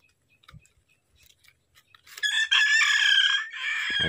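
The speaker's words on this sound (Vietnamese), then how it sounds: "chú gà đó là gà rừng nhá, nhưng mà được bắt về nhà ấp rồi cho gà nhà ấp" A jungle fowl rooster, wild-caught and raised at home, crows loudly and close in one long call, preceded by faint scattered clucks and small noises.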